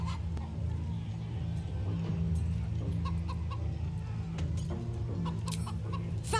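Chicken clucking in the Baldur's Gate 3 video game, a series of short clucks and squawks over a steady low drone of game ambience and music.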